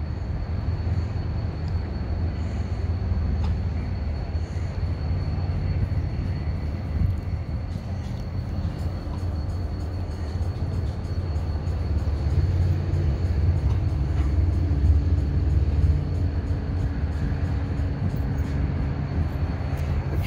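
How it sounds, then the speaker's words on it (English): A long train rumbles past at Willimantic with a steady, heavy low roar of rail cars and faint clanks over a continuous hum, with no voices. "let's see how far back this train goes"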